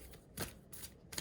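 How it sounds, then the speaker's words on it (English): Someone shuffles a deck of oversized soul transmission cards, making several soft riffling bursts in an uneven rhythm, close and quiet, with no speech. "They're a little hard to shuffle, but I'm going to shuffle them"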